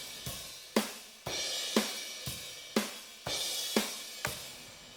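Unprocessed drum overhead microphones from a rock recording: cymbal crashes and hits land roughly every half second in a steady beat, bright washes decaying between strikes, heard alone at moderate level.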